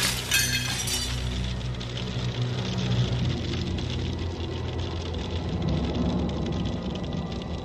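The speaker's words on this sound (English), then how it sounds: "Oh, and now it's hailing." Hailstorm in an audio drama, a dense continuous clatter of hailstones pelting hard surfaces, loud and steady, with a sharp burst at the start.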